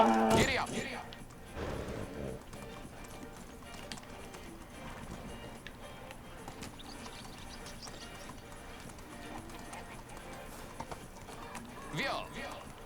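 A horse galloping in a medieval video game, with rhythmic hoof clip-clops running steadily at moderate volume beneath ongoing talk.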